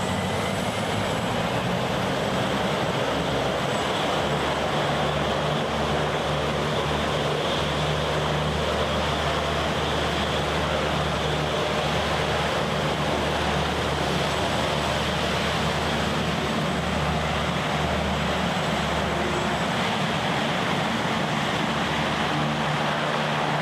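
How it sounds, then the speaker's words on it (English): Hovercraft moving from land onto water, a steady loud roar of fans and engine with a broad rushing hiss that stays constant throughout, with no voices. "Here's an example of how a hovercraft maneuvers from land to water."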